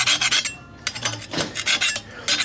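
A scraper rasps against an exhaust flange to remove old gasket material on an R33 GTST, making quick, repeated grating strokes with short pauses between them, loud and close.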